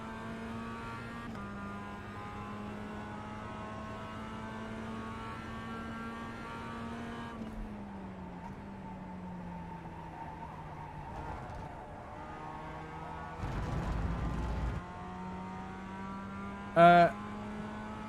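Race car engine at Donington Park during HSCC practice, droning steadily as it accelerates and shifts through gears, heard faintly with a short burst of rougher noise near the end.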